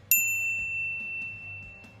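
A notification bell sound effect gives a single bright ding that rings on and slowly fades over a low background murmur, clear and close, with no talking.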